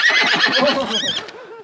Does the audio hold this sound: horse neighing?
yes